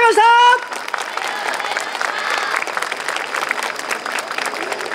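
Audience applause at a Toyama yosakoi festival evening performance, a dense steady clapping that follows a short announcer's voice at the start and carries on alone to the end.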